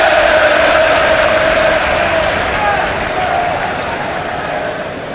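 A Premier League home crowd at Goodison Park, Everton against Fulham, keeps up a broad, loud roar of cheering and applause that eases slightly toward the end.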